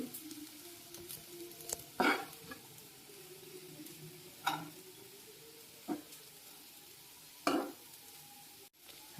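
Egg fried rice is stirred in a pan after chili powder, salt and coriander powder go in, with a soft background sizzle and a few distinct scraping stirs spaced a couple of seconds apart, fairly close and moderately quiet.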